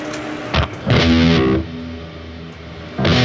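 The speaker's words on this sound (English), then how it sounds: "that is a lot of reverb." Electric guitar played through a heavy reverb and distortion effect, with a few loud sustained chords and bursts that ring out and decay in a wash between hits.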